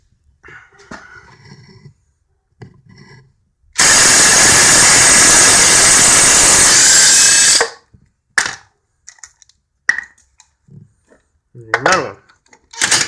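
A Makita 18V LXT impact driver hammers loudly for about four seconds, rattling off a Honda's wheel nut torqued to 80 foot-pounds. It then stops abruptly, followed by brief clicks and someone talking before and after.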